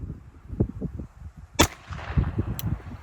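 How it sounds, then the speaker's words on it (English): One sharp pistol shot cracks out from a SIG 230 firing a 94 grain .380 round during a helmet ballistic test, a sudden loud report over low rumbling outdoor noise, followed by a fainter distant pop. "We're shooting a 94 grain 380 out of a SIG 230."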